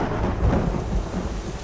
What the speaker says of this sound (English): the sky went dark and the rain started to fall.